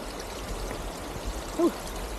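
River water flows steadily in a shallow stream as a hiker wades across on a hot day, a constant close babble with one brief splash near the end.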